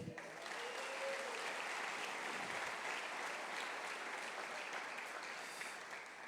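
A church congregation claps in celebration, a steady, even sheet of applause that holds from start to finish at a fairly distant, subdued level, with a brief voice at the very beginning.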